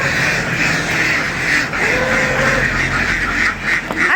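Farm ducks quack in a dense, continuous chorus at a rural Philippine duck pen, with one drawn-out call rising above the steady flock noise.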